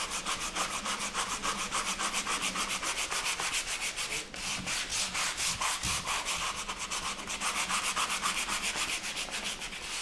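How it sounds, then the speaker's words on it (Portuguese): Painted wooden furniture being sanded by hand with sandpaper, a steady, rapid back-and-forth rasping scrub that runs continuously and close throughout, with only a brief pause midway. "Com uma lixa, pode ser um grão mais acima, eu vou simplesmente voltar a lixar"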